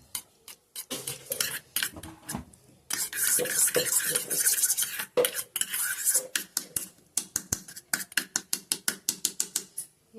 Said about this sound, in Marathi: तशी ना चमच्याने ढवळून घेऊया.